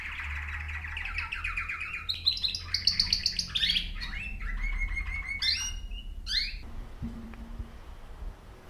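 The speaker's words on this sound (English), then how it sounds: "Or perhaps only the sound of birds." Dense chirping and twittering from several birds, busy and bright for most of the stretch, then thinning out toward the end over a low background rumble.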